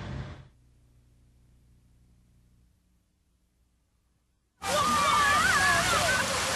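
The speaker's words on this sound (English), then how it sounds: "This one we saw today spewing thousands of gallons of water into the street for at least 8 hours." An illegally opened fire hydrant spews thousands of gallons of water into a city street. A low rumble fades to near silence, then a loud, sustained rushing roar of gushing water bursts in abruptly and continues.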